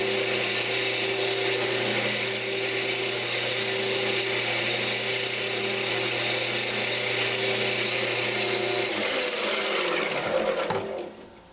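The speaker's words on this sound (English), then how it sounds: "Let me see if I can cut this hot glue off." A woodturning lathe runs with a steady, loud, droning whine while a tool cuts hot glue off a small winged box piece. The drone holds evenly, then winds down and stops near the end.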